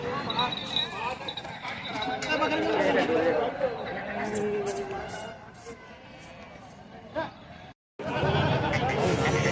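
Kathiawadi goats bleat at the Chalisgaon goat market, close and repeated, amid busy crowd noise and people talking.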